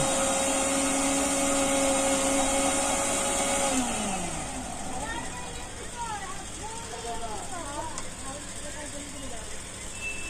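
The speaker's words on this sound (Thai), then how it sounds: "ปั่นไปก่อน สับปะรดกับทับทิม" A loud blender motor whirs steadily blending pineapple and pomegranate without ice, then its pitch drops and it changes tone partway through, with voices talking over the churning.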